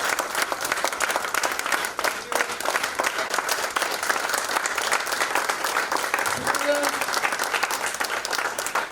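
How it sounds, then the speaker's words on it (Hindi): Loud, continuous applause from a standing audience at a network marketing seminar, dense clapping throughout with faint voices briefly audible underneath. "तो खड़े हो जाइए, एक जोरदार तालियों के साथ में बहुत जोरदार तालियां"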